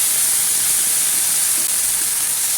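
Banana flower hits hot oil with mustard seeds in a pan for a Tamil vazhaipoo poriyal, producing a loud, steady, close sizzle that hisses without a break and with no voices.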